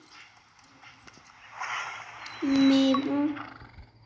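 A horse named Voyou moves with a few soft hoof sounds and a brief snort or whinny-like blow, fairly quiet and close, while a person speaks a couple of words in French.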